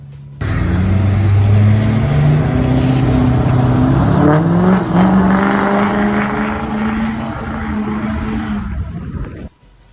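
A loud diesel truck engine at high idle running steadily close by, its harmonic drone rising slightly and holding for the whole stretch before cutting off abruptly near the end.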